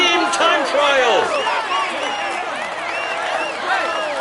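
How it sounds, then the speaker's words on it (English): In the Tour de France 2018 video game, a crowd claps and cheers as a rider climbs onto the podium after a team time trial win, the steady applause running under excited whistles and voices. "He is all smiles as he climbs onto the podium. Applaud him."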